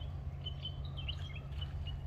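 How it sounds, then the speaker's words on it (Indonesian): A sooty-headed bulbul calls among trees, giving a few quick bright chirps over a steady low background hum. "ternyata ada burung kutilang juga di dalam tuh."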